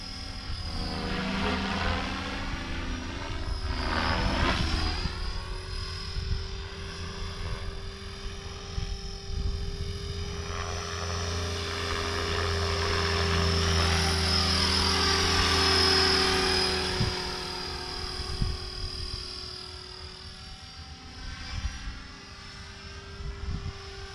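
A Blade 500 RC helicopter flies nearby with a continuous high-pitched rotor and motor whine that rises and falls as it manoeuvres, loud and steady throughout with no talk.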